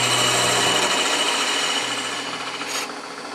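A wood lathe turns a fridge magnet blank while a bevel-rubbing tool cuts, giving a continuous close rasping, scraping whir that fades slightly toward the end.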